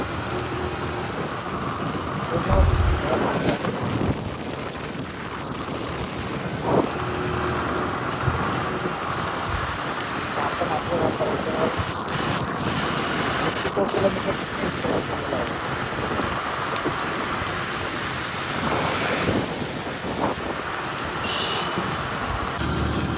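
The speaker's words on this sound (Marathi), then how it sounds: "पाऊस भरपूर चालू आहे म्हणून आपल्याला हे घ्यायला लागेल." Heavy monsoon rain on a scooter ride from Pune to Mumbai. The downpour roars continuously with loud broadband hiss and wind noise, and a few deeper thumps stand out early on.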